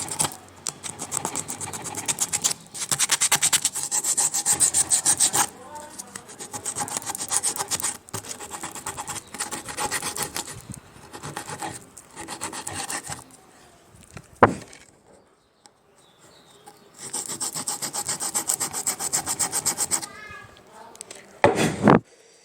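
Hand-rubbing a wooden Shubh Labh name piece smooth and level, heard as close, rhythmic rasping strokes in long bursts, broken by a quiet pause and a couple of sharp knocks near the end.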